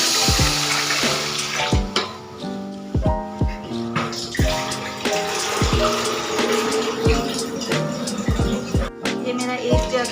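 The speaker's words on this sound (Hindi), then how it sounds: "पानी डाल दूँगी" Water poured from a jug into a pot of fried chickpeas for pulao, a close, continuous gushing splash with repeated sharp spattering bursts as each pour hits the hot pot.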